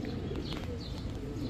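A White Hungarian High Flyer Budapest pigeon coos softly and close in a short burst, over a low, steady background murmur.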